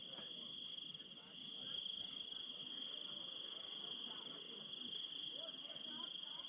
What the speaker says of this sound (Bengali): ঝিঝি পোকার ডাকটা একটু শুনেন